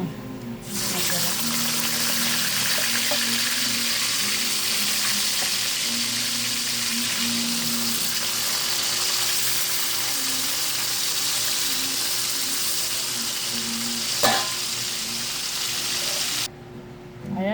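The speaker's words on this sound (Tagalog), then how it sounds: "tapos na natin i-fried ang ating pork chop" A pork chop frying in a pan gives a steady, close hiss and sizzle that runs almost unbroken, with a faint clink near the end and no talking.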